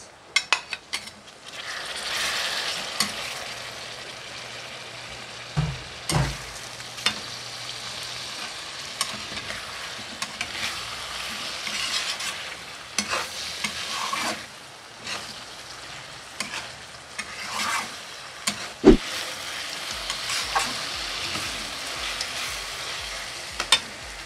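Tomato sautéed with shrimp paste sizzles steadily in a pan while a utensil stirs and scrapes it, with intermittent metallic clinks against the pan, close and continuous.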